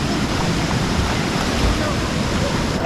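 A rainforest waterfall in Colombia roars as a dense, steady wash of rushing water, loud and close, with a little wind buffeting the microphone.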